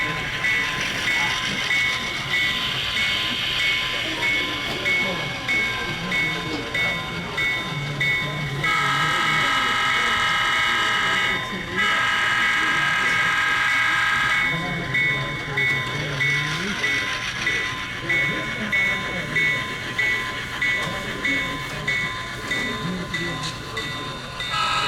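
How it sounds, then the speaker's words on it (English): A GP9 model locomotive running on a test track with DCC sound at a model train show: a steady diesel engine rumble with horn blasts in the middle, while people talk nearby. "offered to run the GP9 for me so I could get some footage of the DCC sound"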